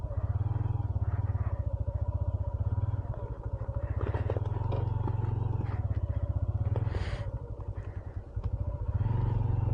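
A motorcycle rides a rough, snowy mountain track at -14 °C in the Utror Valley, Kalam, Swat, its engine thumping close and loud with rhythmic pulsing, easing off and picking up again amid clattering jolts.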